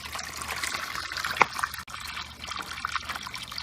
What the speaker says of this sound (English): Okay, it's still draining